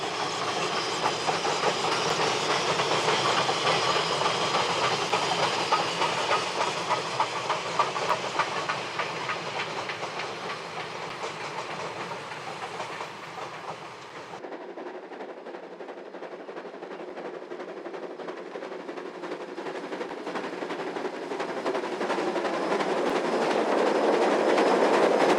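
A steam train crosses a wooden trestle bridge under a speed restriction, rolling steadily with continuous rumbling and rhythmic clatter, the sound thinning briefly midway before building again, close and fairly loud throughout.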